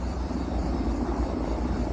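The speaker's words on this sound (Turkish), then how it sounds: "Helikopterlerde biri gidiyor, biri geliyor." Helicopters fly overhead during a tense public gathering in Turkey, a continuous low, throbbing rotor roar, steady and fairly loud throughout with no speech.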